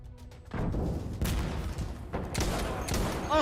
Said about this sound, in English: why are you shooting that at close range? Yeah, that's a cannon.